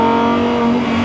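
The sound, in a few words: ABT XGT V10 race car engine accelerating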